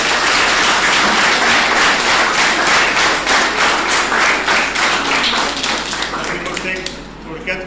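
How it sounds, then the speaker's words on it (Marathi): Audience at a children's play gives loud, dense applause, many hands clapping close and steady before gradually thinning toward the end. "असं त्यांच्यासाठी एकदा जोरदार टाळ्या."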